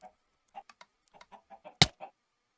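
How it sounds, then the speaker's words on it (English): Minecraft chickens cluck in a quick irregular series of short clucks, close and distinct against silence, with one louder burst near the end. "Chicken! So many."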